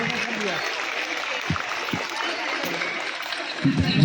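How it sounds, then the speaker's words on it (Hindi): Continuous crowd applause at a school's annual sports festival in Dhanbad after a kindergarten performance, a dense, steady wash of clapping from a large gathering heard under and around people talking. "तालियों की गड़गड़ाहट बजती रहनी चाहिए।"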